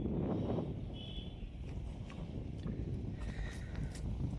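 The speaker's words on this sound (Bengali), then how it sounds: "হাওয়াও হচ্ছে।" Wind gusting across open salt-grass flats where cattle graze and birds sit, a steady broadband rush with buffeting microphone noise, fairly loud and continuous, no speech.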